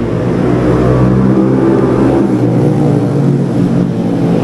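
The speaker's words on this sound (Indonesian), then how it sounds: "motor berisik" A loud motor vehicle engine near an Indonesian roadside cafe, a steady droning roar that stays close and heavy throughout with no pauses or talk.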